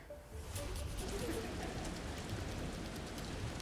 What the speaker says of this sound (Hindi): बहुत ज़बरदस्त बारिश शुरू हो गई